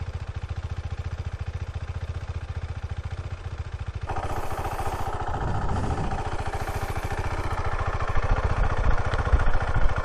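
A motorcycle with stock exhaust, stock air intake and stock filter idles with a steady, even pulsing, then revs up partway through into a louder, rougher engine note.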